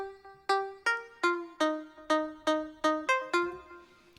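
A plucked synth melody from a future deep house project in FL Studio, run through the Stereoize 3 preset of the stereo shaper: about ten bright, evenly spaced notes, each with a sharp attack and quick decay, clear and alone.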